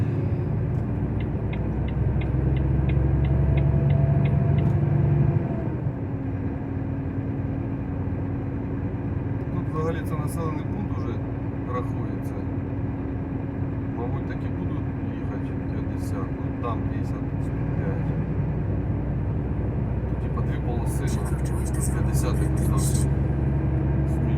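A truck on the road between Gdańsk and Poltava accelerating, its engine rumbling low and steady with a shift in drone partway through, under ongoing cab noise and occasional clicks.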